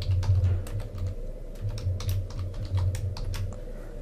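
A book title is typed into a library search box on a computer keyboard as a quick run of light, close key clicks over a steady low electrical hum, with no talking.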